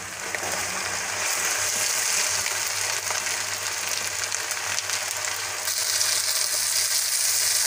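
Masala with a whole onion and whole green chillies frying in a pan for aloo gobi, a steady loud sizzle running throughout with faint stirring scrapes.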